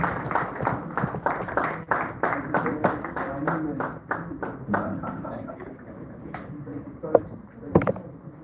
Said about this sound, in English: A round of applause to him, please, as he takes his seat once again